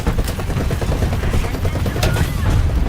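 Gunfire from the M18 vehicle's mounted gun in a video game, a dense continuous rattle of rapid shots with rumbling low end and a couple of sharper cracks standing out.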